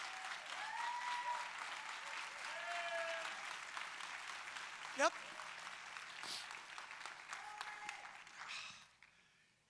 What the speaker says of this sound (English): Now you can clap, because now you need to get it.